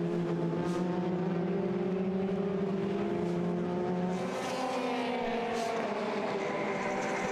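Formula Renault 2.0 race cars screaming around Silverstone during a race, engines rising and falling in pitch as they pass and follow one another, loud and continuous from start to end.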